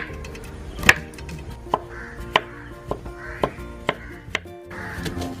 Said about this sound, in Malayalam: ഇതേപോലെ തന്നെ ഒരു ക്യാരറ്റ് അരിയാം